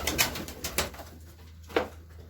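Domestic pigeons in a coop coo in a few short, soft calls at close range, mixed with light rustling and brief bursts of movement.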